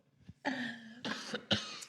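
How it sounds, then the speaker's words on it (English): Three sharp, harsh coughs close to the mic, the first drawn out and raspy, followed by two shorter bursts, with no talking. "I'm sorry for coughing."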